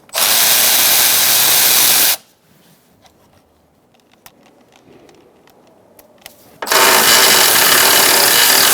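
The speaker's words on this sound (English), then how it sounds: "Using a 13mm socket, we're going to take off our lines." Power tool with a 13mm socket removing transmission cooler lines on a 2007-2017 Ford Expedition 5.4L V8 radiator: a loud, steady whir of about two seconds, a pause with faint clicks and handling, then another sustained burst.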